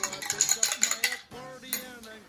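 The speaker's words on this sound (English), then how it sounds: "you can get a fancy spoon like this and give it a quick stir" Fancy metal spoon stirring a drink in a glass, a quick run of bright clinks and taps against the sides, then softer scraping, close and clear without talking.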